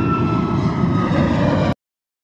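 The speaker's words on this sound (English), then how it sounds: "Airplane." Steady roaring airplane engine drone, loud and close, holding evenly for under two seconds before cutting off abruptly into silence.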